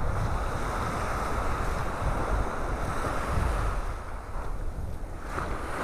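Steady onshore wind from the Gulf and continuous surf wash over a beach in North Naples, Florida, with constant buffeting wind noise on the microphone and no voices.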